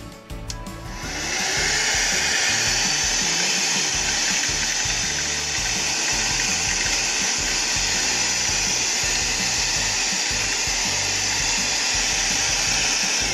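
A Shark Pet-Perfect II cordless bagless hand vacuum switches on and runs, a steady high whirring motor whine, loud and close, as it sucks up small magnets, with no talking.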